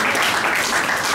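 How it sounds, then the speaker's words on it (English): A dense wash of applause from a conference crowd in Ghana, steady and loud throughout with no break. "Give them a round of applause."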